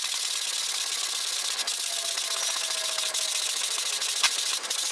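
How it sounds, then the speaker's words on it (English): Wood being sanded by hand with sandpaper, a steady close broadband rasp of grit on the workpiece, nearly unbroken, with a few light knocks and no talk. "Hand sanding for the win this time."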